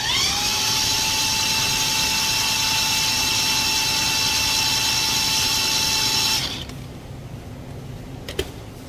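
A homemade 14V car alternator generator runs at full speed putting out 25 amps: a steady, loud mechanical whine with a high-pitched tone, then it cuts out abruptly, leaving a quieter hum and a brief click near the end.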